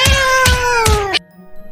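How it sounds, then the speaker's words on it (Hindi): Cats growling and yowling as they attack someone on a rooftop: three loud, drawn-out harmonic yowls in quick succession, close and alone, then cutting off abruptly to quiet. "छत पर बिल्लियां उसे देखकर गुर्रा रही थीं।"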